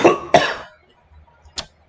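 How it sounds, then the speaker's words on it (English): Two hoarse coughs in quick succession, close and loud, followed by a short pause and a single lighter throat-clearing cough, from someone who has been talking a lot. "Getting to that point in the day where I'm coughing from talking too much."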